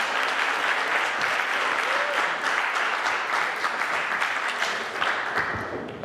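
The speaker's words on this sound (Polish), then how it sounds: "Let's get another round of applause for these beautiful young ladies." An audience at the Miss Polonia USA 2016 pageant applauds the contestants after the cocktail dress competition: dense, loud, sustained clapping that holds steady the whole time.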